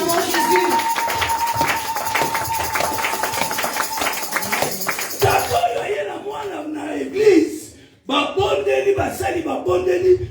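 Church congregation clapping in steady rhythm and calling out in acclamation of Jesus, a loud crowd blend under a preacher's voice.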